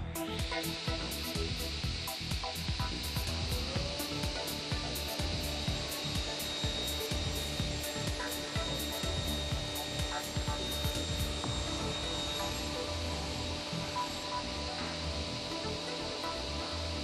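A Felder Hammer C3 31 combination woodworking machine cuts a glued wooden seat to size, giving a steady, continuous whine with grinding blade noise that runs unbroken at close range throughout.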